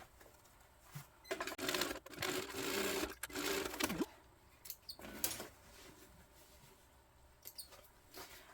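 Sewing machine backstitching across a tote bag strap near a D-ring, with quiet intermittent bursts of rapid mechanical stitching separated by pauses and small clicks.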